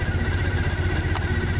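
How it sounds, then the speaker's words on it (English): A cold 2012 Triumph Bonneville SE parallel-twin engine idles steadily and close, with an even low throbbing pulse and no talking. "got that parallel twin. Love that sound."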